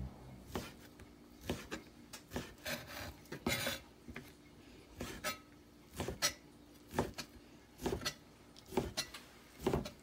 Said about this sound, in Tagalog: Ibain natin yung bacon natin ng ganito palalaki.